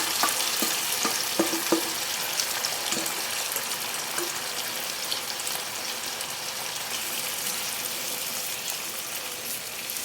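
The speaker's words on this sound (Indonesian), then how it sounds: "Ini kita tumiskan sampai habis" Continuous bright sizzling of seasoned fish and spices being stir-fried in a pan for an Acehnese trevally dish, with scattered scraping stirs early on, then an even frying hiss.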